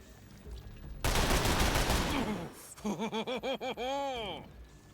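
Gunfire from the video game The Lamplighters League: a loud, dense burst of rapid shots lasting over a second, followed by a quick series of pulsed electronic tones and a falling synthetic sweep.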